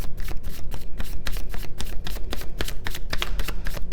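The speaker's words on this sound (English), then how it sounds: "I'm going to do a little bit of shuffling here" Tarot cards shuffled by hand, a loud, close, continuous run of rapid papery riffles and slaps in a steady rhythm with no talking.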